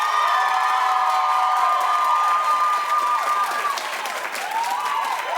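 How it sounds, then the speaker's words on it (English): A television talk show studio audience claps and cheers loudly, with dense steady applause, whoops and shouts throughout, easing slightly before rising again. "Clap if you want Beyonce to win."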